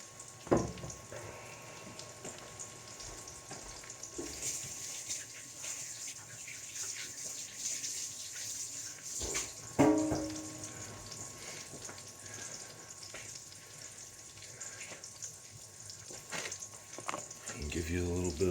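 Three sucker fish patties frying in a pan, a continuous soft sizzle throughout with a couple of louder clattering moments, a voice talking over it.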